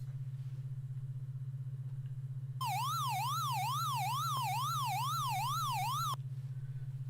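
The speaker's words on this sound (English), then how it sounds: "a faster, higher-pitched siren which sounds like it was taken straight out of Pac-Man" A fast, high-pitched wavering siren sound effect from a video game, in the style of an arcade Pac-Man alarm, loops steadily for a few seconds over a constant low hum, then cuts off abruptly.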